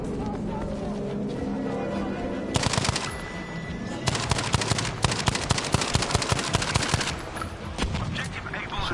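Rapid automatic gunfire in a Battlefield V multiplayer match, long rattling bursts of close shots with brief pauses between, over a constant battlefield din with occasional voice.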